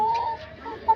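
A backyard chicken, one of a few chicks bought earlier, gives a short run of close clucks and a sharper note near the end, with faint ambient noise behind it.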